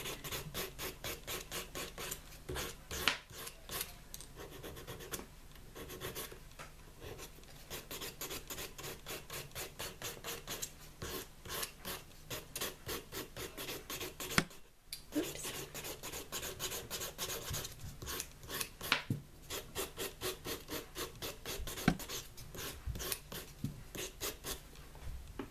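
A nail file rasps steadily back and forth across an acrylic nail in quick, even strokes, close and continuous throughout with only a brief pause midway.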